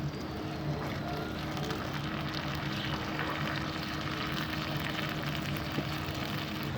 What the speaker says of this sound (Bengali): পেঁয়াজটা আমার প্রায় ভাজা হয়ে গেছে। ও একটু তাপ বেশি